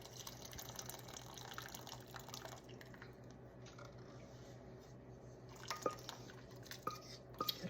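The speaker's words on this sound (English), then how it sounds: "pour it into another bowl, a clean bowl, with your strainer sitting inside." Elderberry syrup poured through a strainer into a clean bowl: soft, continuous trickling and dripping close by, with a few wetter splashes and squishy spatters toward the end.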